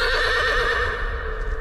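A horse neighs in a film scene, a sustained whinny with strong harmonic bands over a low rumble, loud and close, lasting well over a second and trailing off with faint hoof-like thuds.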